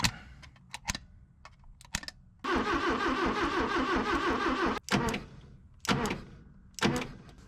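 A 1966 Toyota Stout engine is cranked over: a few sharp clicks, then about two seconds of loud, steady, rhythmic starter churning that cuts off abruptly, followed by more clicks and short mechanical bursts.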